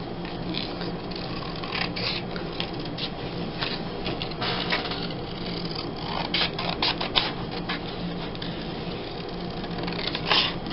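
Scissors snipping through paper while making a gluebook collage page, a series of crisp close cuts with short irregular bursts and pauses against a quiet room.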